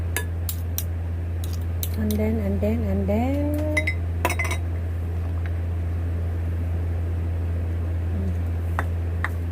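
Avocado graham float mixture being stirred in a bowl, with bright spoon clinks against the bowl in quick bursts over a steady low hum and a short voiced sound partway through.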